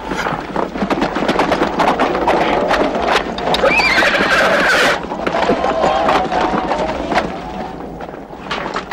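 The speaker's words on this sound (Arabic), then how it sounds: "لنذهب يا جوادي." A horse whinnies loudly and close by while its hooves clip-clop in a steady rhythm, the neigh rising in the middle and the hoofbeats continuing alone afterward.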